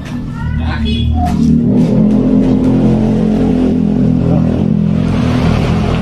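A Honda Sonic 150 motorcycle engine revs close by, a loud sustained throaty drone that climbs and holds, with people talking over it.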